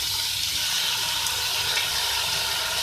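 Finely chopped green chillies fry in a pan with a dense, continuous hiss and sizzle, loud and close, with no talking.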